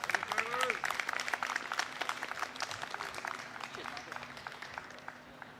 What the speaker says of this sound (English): Big round of applause for Travis Carter.